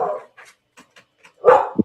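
A dog barks loud and close, a couple of sharp barks with brief quieter yips between them, no talk over it.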